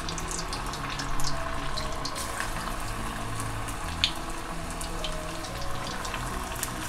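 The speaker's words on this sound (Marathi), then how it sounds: "आता आपण छोट्या छोट्या आकारची ह्याच्यामध्ये भजी तळूया." Small methi and onion bhaji frying in hot oil, a steady close bubbling hiss with faint crackles running throughout, no talking.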